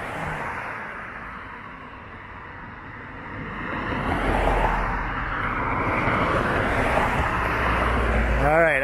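Road traffic rushes along Mount Pleasant Road in Toronto, heard from the sidewalk. The broad wash of passing vehicles swells louder about halfway through and stays close and continuous.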